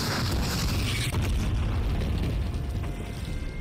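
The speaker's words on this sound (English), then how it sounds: "Too many explosions." Massive rumbling explosions in the video game Call of Duty: Warzone, a continuous roaring, crackling blast that fills the whole stretch with deep booming energy and no pause.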